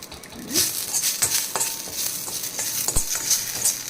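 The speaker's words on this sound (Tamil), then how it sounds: "கருவேப்பிலை எண்ணெய் விடாமல் வெறும் வாணலியில் வறுத்துப்போம்." Curry leaves dry roasting in an empty pan with no oil, giving a steady dry crackle and rustle with scraping stir strokes, close and moderately loud throughout.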